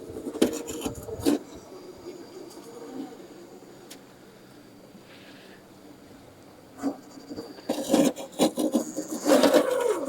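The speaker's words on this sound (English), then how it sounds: "you can hear that aluminum scraping against the rocks" Aluminum sliders on a Vanquish VRD Carbon RC rock crawler truck scraping and grinding against rocks, close up in irregular rasping bursts with a quieter stretch mid-clip and louder scraping toward the end.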